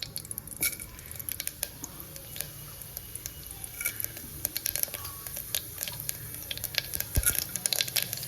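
Mustard seeds, urad dal and curry leaves sizzle in hot oil, with close, steady crackling and popping that grows denser toward the end.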